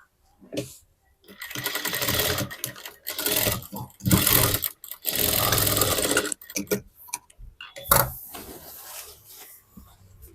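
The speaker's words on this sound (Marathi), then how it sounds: "पाहू शकता बाही मी इकडे सुद्धा टीप मारून दाखवते" Sewing machine stitching a blouse sleeve with a tip stitch, running in loud bursts of rapid mechanical whirring separated by short pauses, with no talk.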